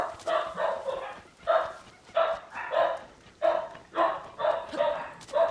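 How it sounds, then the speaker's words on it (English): Several dogs barking in repeated bursts near a house, with pauses between volleys, loud and clear with no talk over them. "Forgive me if you hear the dogs barking."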